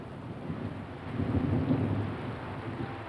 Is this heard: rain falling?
yes